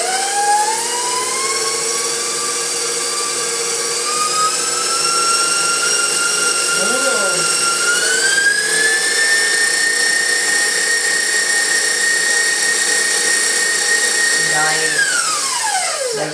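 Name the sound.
mixer whipping cupcake batter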